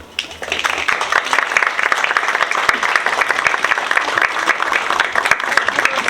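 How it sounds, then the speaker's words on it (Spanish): Audience applause at a school awareness talk on preventing sexual harassment, a dense, steady clatter of many hands that rises quickly after a brief pause and carries on evenly, filling the hall without voices on top. "Entonces les damos a todos un feliz aplauso."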